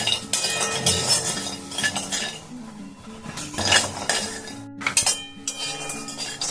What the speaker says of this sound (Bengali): এগুলোকে শুকনো কড়াইয়ে আগে আমি ভেজে নেব তাহলে তেল খুব কম লাগবে